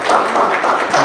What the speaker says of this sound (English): Y'all give him one more round of applause